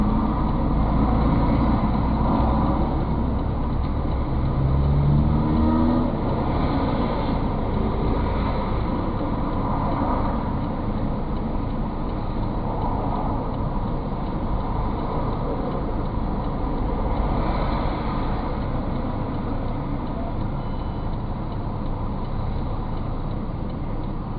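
Car driving off from a roadside checkpoint, a steady engine and road rumble heard from inside the vehicle, loud and continuous for the whole stretch, with no talk.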